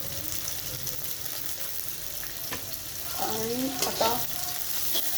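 Baby corn sautéing in a pan with mushrooms, a steady close sizzle and frying hiss throughout, with scraping stir sounds and a brief voice speaking near the end.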